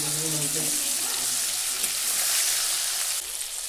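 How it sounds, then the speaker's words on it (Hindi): Mutton cooks in a pressure cooker on a gas stove, giving a loud, steady, broad hiss throughout. A voice is heard briefly at the start. "कुकर में मटन देखिए यहाँ पे मटन बन रहा है"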